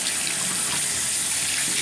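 Warm water running steadily from a tap over a shaving brush, a continuous close hissing splash with no breaks or voices.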